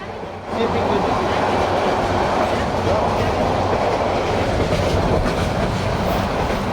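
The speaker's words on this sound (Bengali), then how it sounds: "এই যে ট্রেনে করে আব্বুর সাথে যাচ্ছি আমি আর আমার মেয়ে।" Steady, loud rumble of a train ride heard from inside a carriage, with continuous wheel clatter and rail noise filling the space after a brief quieter start.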